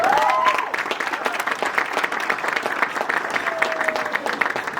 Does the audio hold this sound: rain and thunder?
no